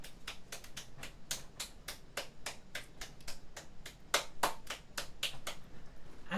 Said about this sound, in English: he claps his hand behind